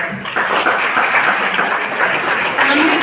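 An audience at a National Service Scheme camp at a government industrial training institute in Chandrapur claps steadily and loudly, a dense continuous applause that runs through the whole stretch.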